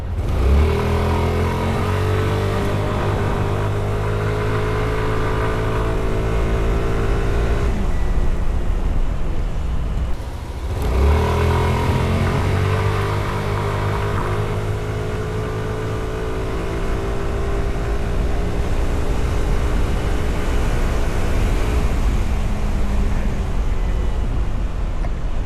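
A Yamaha Lexi 155 scooter engine drones steadily while riding, its pitch rising as it accelerates, dropping briefly, then climbing again through a long continuous run.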